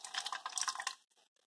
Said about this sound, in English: I'm gonna be purging this thing with distilled water.